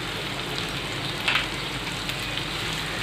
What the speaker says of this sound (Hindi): अच्छे से भून के लेंगे